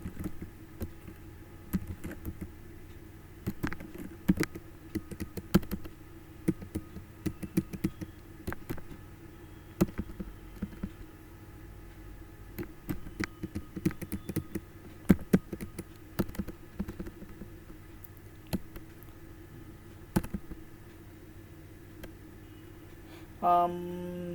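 Keys clatter on a computer keyboard as commands are typed into a Linux terminal, coming in irregular quick bursts of light taps with short pauses over a low room hum.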